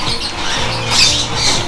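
A sulphur-crested cockatoo in a breeder's aviary lets out loud, harsh, raspy squawks that run continuously at close range, with no talking over them.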